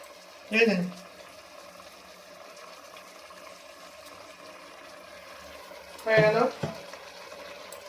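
Chicken with coriander leaves stirred in a pressure cooker, a steady low sizzle punctuated by two short bursts of scraping and clatter from the spoon, one early and one near the end.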